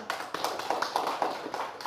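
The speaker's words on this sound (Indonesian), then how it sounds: "Tepuk tangan untuk Nurul" A classroom of students claps for a classmate, a brief burst of quick overlapping hand claps close by, lasting about two seconds with no talking.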